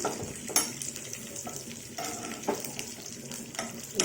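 Tempering spices sizzling in a small amount of oil in a pan for onion mango pickle yogurt chutney, a steady close frying hiss broken by a few sharp clinks and stirring scrapes.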